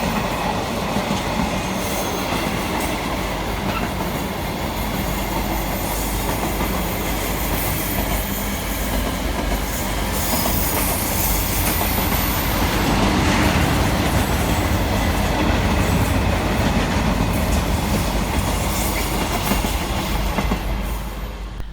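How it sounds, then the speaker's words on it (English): A Class 350 London Northwestern Railway electric unit on the Birmingham New Street to Liverpool Lime Street service arrives at Stafford, with a steady, sustained rumble of wheels on rail and occasional squeal, fairly close and continuous throughout. "arriving in the background is 350-107, running 5 minutes late with the 1711 London Northwestern Railway service"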